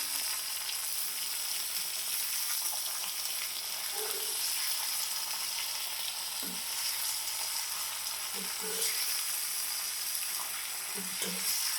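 Boiled dried papdi beans sizzle steadily in a hot pan for Surti papdi bharthu, with a few soft, faint stirring scrapes under the continuous frying hiss.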